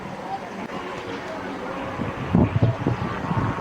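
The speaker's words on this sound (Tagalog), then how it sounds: "sobrang lakas ng hangin ngayon, oh." Strong wind roars and buffets the microphone in a steady rush, with rougher gusts swelling louder toward the end.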